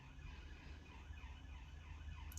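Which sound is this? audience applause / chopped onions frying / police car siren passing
police car siren passing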